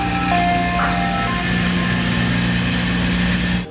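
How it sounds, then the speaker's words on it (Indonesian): Toy ice cream truck playing its tinny electronic jingle close up, a steady repeating melody with a buzzing motor-like drone that cuts off abruptly at the end. "yang ini mobil es krim teman-teman"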